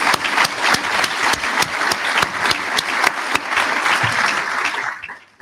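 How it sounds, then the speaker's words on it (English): Hearty applause from a conference audience at a London event, dense clapping sustained for about five seconds before tapering off at the end. "So can we just give a clap to them?"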